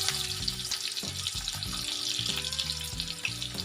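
Red chilli, cumin and curry leaves sizzle steadily in hot oil, a dense continuous crackle close by with a low rhythmic hum underneath, no voices.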